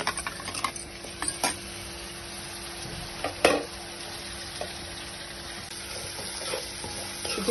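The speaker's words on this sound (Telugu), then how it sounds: "ఇప్పుడు వేగిన తర్వాత ఇప్పుడు మనం కడిగి పెట్టుకున్న చికెన్" Washed chicken pieces go into hot oil with fried onions for a homemade chicken curry, giving a soft, steady sizzle with scraping stirs and one sharp pan clatter midway.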